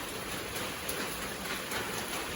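Steady rain falls with a dense, even hiss and no distinct drops standing out, holding at a constant moderate level throughout without any voices.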